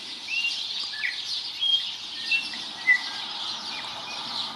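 Tui birdsong in Lower Hutt, New Zealand: thin, high chirps and whistled notes over a hiss of distant birds, with a few brief louder calls standing out.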